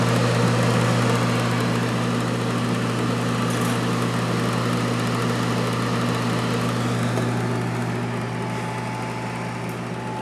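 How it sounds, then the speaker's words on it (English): Fan of a Shandon Hyperclean 2 fume hood running steadily, a continuous loud blowing whoosh with a low, constant motor hum throughout, no talk. "Turning the unit on, you'll hear the fan go, obviously blowing."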